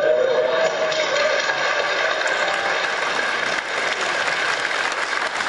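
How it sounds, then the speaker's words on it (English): Rapturous applause fills a hall as the Higgs boson discovery is announced, a dense, steady wash of many hands clapping close and loud throughout, with no speech over it. "was met with rapturous applause as the findings were shared with the world"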